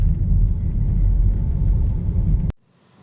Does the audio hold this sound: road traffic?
yes